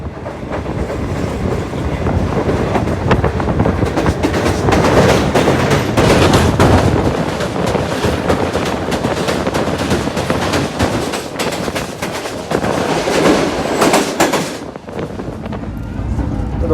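Pakistan's Green Line Express rolls along at speed out of Rawalpindi toward the mountains, a loud continuous rumble and clatter of wheels on track with sharp crackling bursts throughout, easing off at the very end.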